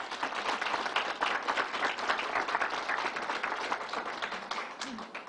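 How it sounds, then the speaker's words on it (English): An audience at the State Fairgrounds applauds steadily at a COVID-19 vaccine press event, a continuous crowd of clapping hands at moderate level with no voices above it. "Let's give Troy a round of applause."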